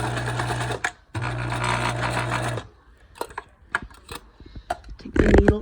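A sewing machine backstitching fabric runs in two steady, loud bursts separated by a brief stop, followed by scattered mechanical clicks and a final rattle as the work is handled.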